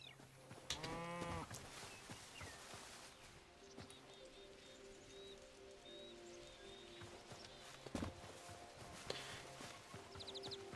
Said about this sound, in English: Hello, Highland cattle.